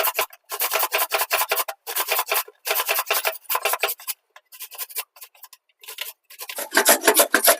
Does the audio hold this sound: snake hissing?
no